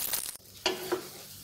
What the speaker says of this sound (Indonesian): Ini terus diaduk-aduk biar tanak.